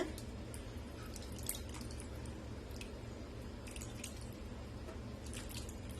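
Tamarind squeezed by hand in hot water, giving soft wet squishes and little drips, close and faint over a low steady hum, with no speech.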